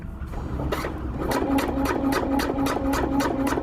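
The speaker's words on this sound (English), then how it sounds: "now we've got the whole length of it sewn together" A sewing machine stitches the ridgeline seam of a lightweight backpacking tarp, running in a rapid, even mechanical chatter that speeds up after a slow start and stays close and fairly loud.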